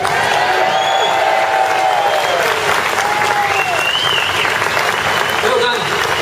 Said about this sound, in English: give a right big round of applause, everybody here